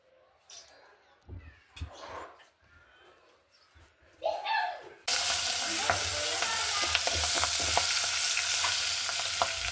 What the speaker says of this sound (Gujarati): અમારે વિલાસભાઈ મરસા શેકે છે.